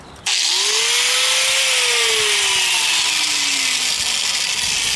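A 4.5-inch angle grinder starts abruptly and runs at a loud, steady high whine, its pitch sagging and rising as it cuts through tomato plant limbs, close and continuous.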